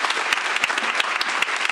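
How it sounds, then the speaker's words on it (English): Audience at a board of education meeting applauds the board appointees, a steady round of dense clapping from a crowd in a meeting hall, moderately loud and continuous throughout. "Can we have one more round of applause for all of these appointees and for what you've done?"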